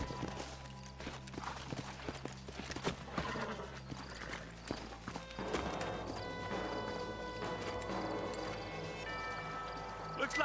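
Horses' hooves clip-clop in a Western-style video game as riders come to a halt, with a horse whinnying, voices speaking over the top and a musical score running beneath.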